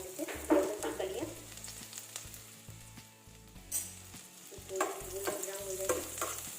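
Garlic cloves sizzle and fry in a hot kadhai while being stirred, soft crackling with intermittent spoon scrapes and clinks, fairly quiet and close.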